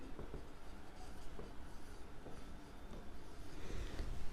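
A pen scratching on paper while an algebra equation is worked out, giving a soft, continuous faint scratching over a quiet room hiss, with no one talking.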